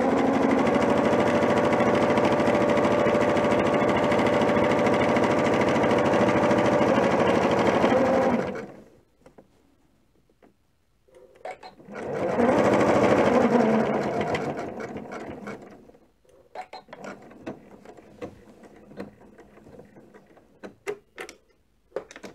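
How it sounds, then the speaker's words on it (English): A sewing machine runs steadily as it zigzag stitches over the join between already quilted strips, a loud continuous whir for several seconds, then a pause, another burst, and scattered clicks and handling noises after it stops. "I'll do another zigzag over the join here."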